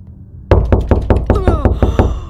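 Knocking on a door in the horror video game Locked Up, about nine loud, evenly spaced heavy knocks in a quick steady rhythm, with a faint voice-like sound blending in partway through.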